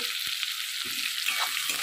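Steady hiss of salted onions frying in a pan, with a few soft scrapes and knocks as they are stirred.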